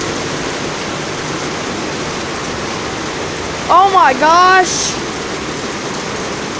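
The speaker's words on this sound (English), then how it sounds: "And yeah, of course there's water coming out the roof." Heavy storm rain roars as a dense, steady wash of noise, with water leaking through a house roof, while a person briefly exclaims over it midway.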